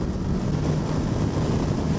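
A 2017 Kawasaki Versys 650 motorcycle holds about 7000 rpm in fifth gear at highway speed, giving a steady, loud, close engine hum buried in heavy rushing wind noise, with no speech.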